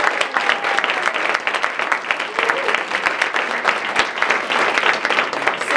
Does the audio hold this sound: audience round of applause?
yes